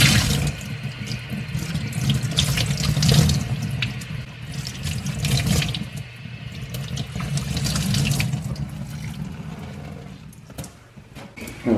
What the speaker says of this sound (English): Rinse any excess cleaner out in cold water.